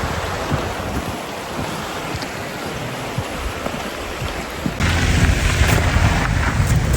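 Water rushes continuously through the rocky Partnach Gorge, a loud, dense, steady roar that swells louder partway through, with no voices over it.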